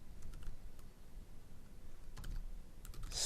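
Code is typed on a computer keyboard in short bursts of soft, close key clicks with brief pauses between them, quiet and alone.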